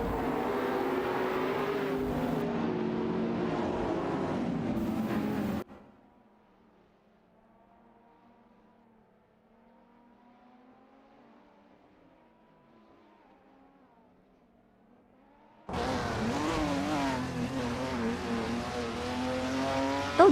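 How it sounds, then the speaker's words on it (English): Racing cars accelerating in a video game AI race roar loudly for a few seconds, drop to a faint distant hum for about ten seconds, then surge back in full force with rising revs. "Racing car, dashing away."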